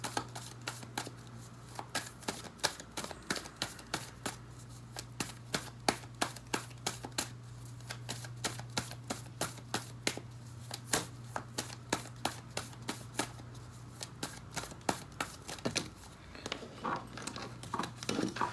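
Tarot cards shuffled and drawn during a weekly reading, a steady run of crisp, close card flicks and riffles over about eighteen seconds under a low constant hum, with no talking.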